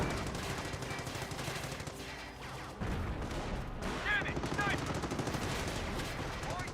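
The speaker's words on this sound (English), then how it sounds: "Snipers firing away." Sniper rifles and other small arms fire in a Company of Heroes World War II battle, with dense overlapping shots and explosions under continuous battlefield noise.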